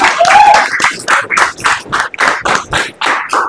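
A classroom group claps together in a rapid, loud burst of about a dozen sharp claps, close and rhythmic, with a short voice at the start.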